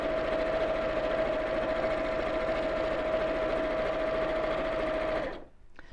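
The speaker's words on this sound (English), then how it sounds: "we're going to sew all the way down the side" A small sewing machine stitches a quarter-inch seam down the side of a fluid fabric. Its steady, close whirring hum runs unbroken for several seconds, then stops abruptly near the end.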